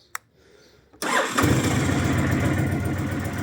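A 2007 Honda VTX 1300 motorcycle engine cranks and fires up after a brief click, then settles into a steady, loud running rumble close by.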